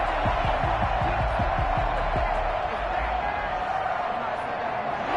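An NFL stadium crowd at an NFC title game roars in a continuous, dense wall of cheering that stays loud and steady throughout, with no distinct gaps, heard from within the stands.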